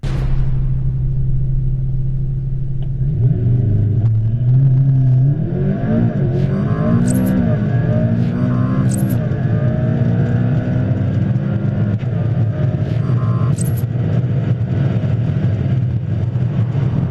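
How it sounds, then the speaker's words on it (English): A McLaren P1 launching under launch control, its engine note rising in a long rumbling build and shifting through gears as it pulls away. The sound is heard alone, with no talk. "hit the launch control button, presenting a world-exclusive acceleration run in the McLaren P1"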